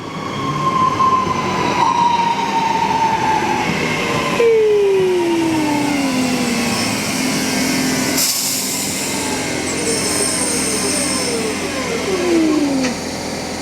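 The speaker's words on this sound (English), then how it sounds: "Oh, it's coming, look, the locals train's coming. The class 3, 2, 3." A Class 323 electric local train arrives on the West Coast Main Line in East Cheshire, its motors whining in tones that slide downward as it slows, over a steady rumble and hiss of wheels on track.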